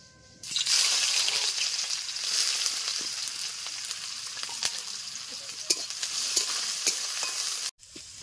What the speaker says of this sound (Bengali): কড়াইয়ে তেল দিয়ে দিয়েছি এবারে আমি পেঁয়াজটা দিয়ে দেবো